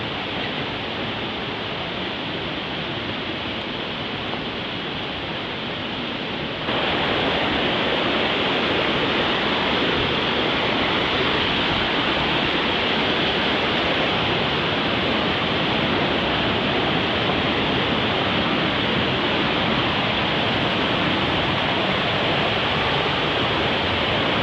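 A waterfall at a campsite roars as a steady, dense broadband rush, loud and continuous throughout, swelling slightly stronger after the first few seconds with no voices heard.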